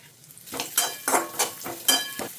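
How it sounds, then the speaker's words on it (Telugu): Dry coconut frying in ghee in a kadai as a spoon stirs it, with soft sizzling under a run of repeated metal scrapes and clinks at an uneven rhythm, close by and with no voices. "ఎండు కొబ్బరి వేయించుకోవాలి."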